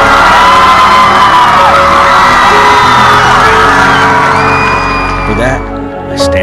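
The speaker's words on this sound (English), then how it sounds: "I love to hear your cheers for all the players and the teams who come to play." A large sports crowd cheers for players and teams, loud and sustained, with whoops and high-pitched shouts rising over the roar before it eases slightly at the end.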